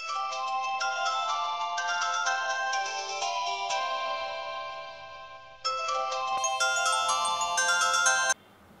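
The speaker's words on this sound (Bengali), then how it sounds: "একদিন ওর স্কুল টিচার বাড়িতে ফোন করেন।" A telephone ringtone plays as a school teacher calls a home, a loud melodic electronic tune repeating twice with a short pause between, alone with no talking.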